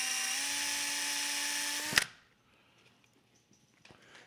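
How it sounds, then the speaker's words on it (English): Power drill boring a 1/4-inch hole through a miniature base: a steady, loud whine for about two seconds that stops sharply, followed by near silence with a few faint handling clicks. "And so I'll drill it out a 1/4-inch."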